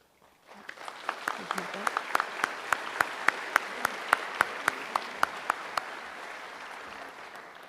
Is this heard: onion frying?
no